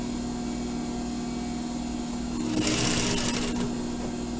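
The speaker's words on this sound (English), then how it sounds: "I continue to sew." A sewing machine stitches a surgical scrub cap, its steady motor hum running throughout and rising into a brief, louder, faster burst of stitching near the end; no speech.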